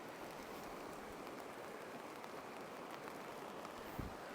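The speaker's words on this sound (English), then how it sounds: "Don't know if you can hear the rain" Rain falling on a tent at a campsite, a faint, continuous soft patter with a brief thump near the end and no voices.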